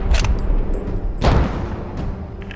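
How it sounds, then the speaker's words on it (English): Mortar explosions in a WWII video game set during Operation Market Garden, two heavy booming blasts a second apart with rumbling decay, fairly close, with no talk over them. "They're just mortaring it."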